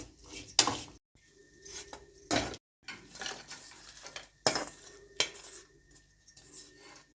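With the flame off, fried dried snails are scooped from a pan into a separate bowl, making intermittent metal spoon scrapes and sharp clinks against cookware, close up, with no voices.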